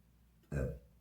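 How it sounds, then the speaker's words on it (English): A single loud, throaty burp bursts out midway through an otherwise quiet indoor moment, lasting about a third of a second with no talking around it. "Did not mean to burp on camera."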